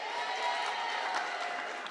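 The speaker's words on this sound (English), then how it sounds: "you can give him a round of applause, please" Audience at a school board meeting and parade of honors gives a round of applause for an absent honoree, a steady wash of clapping and light crowd noise with faint voices mixed in, moderately distant and even throughout.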